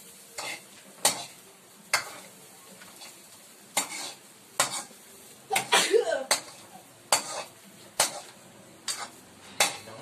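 Dried anchovies and brown sugar stirred in a pan for sweet and spicy dilis: repeated sharp spatula clacks against the pan over a light sizzle, with scraping stirs and voices nearby.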